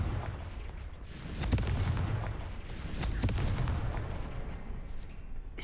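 The Confringo blasting spell in Hogwarts Legacy goes off as a pair of heavy booming blasts with rumbling tails over constant low game ambience.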